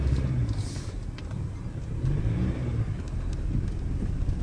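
A Toyota Prado 150 with a 2-liter engine drives through sand dunes, its engine note rising and falling in uneven surges of revving under wind and rumble, fairly close, with no talk.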